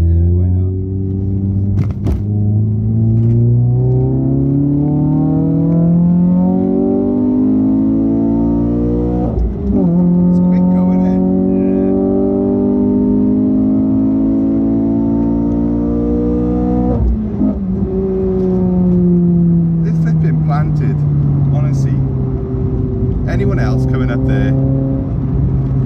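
A Renault Clio RS 3 engine revs hard through several rising gear pulls, loud and close from inside the car, with short drops at each shift and people talking over it.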